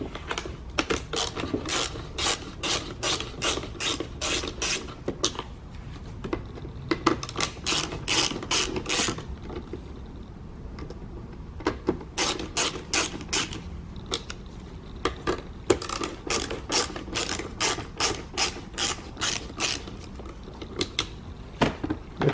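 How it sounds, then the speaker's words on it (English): A ratcheting screwdriver clicks in quick repeated bursts while backing screws out of a 2007-2011 Toyota Camry Hybrid door window switch, close-up with brief pauses between runs. "we have 3 screws here to remove"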